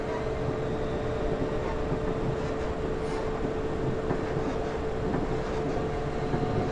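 A driverless train in Train Simulator 2020, on the Ferrari Express, runs with a continuous low rumble and a steady tonal drone, punctuated by faint rattles and clanks and no talking.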